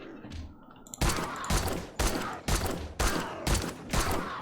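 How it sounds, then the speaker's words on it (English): Automatic gunfire from a machine gun in the video game 7 Days To Die, heard as a loud burst followed by seven evenly spaced heavy shots at roughly half-second intervals after a quiet start. "Switch to the machine gun."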